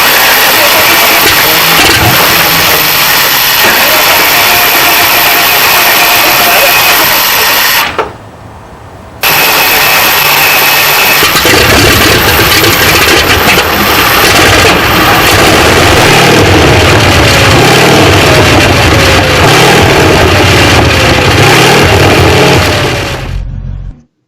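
A Simca four-wheel drive truck with a flathead Ford 4.2 litre V8 runs loud and close, idling and revving steadily with a brief drop-out partway through, the engine rumble continuous to the end.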